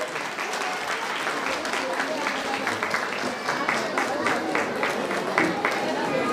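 Loud, sustained applause from a large crowd at a community get-together and prize ceremony for students, steady dense clapping from start to end.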